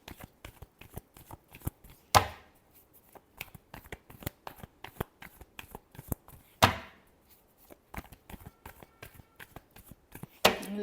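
Tarot cards being shuffled by hand, a rapid run of soft papery flicks and taps broken by two sharp riffle bursts that cascade together, close and fairly quiet, with no talking.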